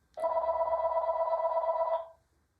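A telephone rings once indoors: a single steady electronic trill lasting about two seconds, clear and close, then stops.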